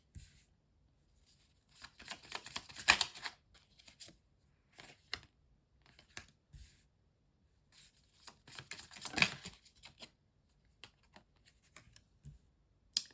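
Tarot cards being drawn and shuffled for a reading, soft papery riffles and quick flicks in scattered bursts with quiet pauses between, close and faint.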